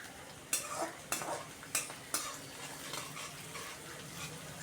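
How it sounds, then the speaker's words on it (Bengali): Chopped ginger frying with black cumin and cumin in a pan, a low steady sizzle broken by four sharp spatula scrapes against the pan early on, then continuing quietly, no talking. "এবার দিয়ে দিচ্ছি কুচিয়ে রাখা আদা কুচিটা দিয়েও আরও কিছুক্ষণ ভাজবো।"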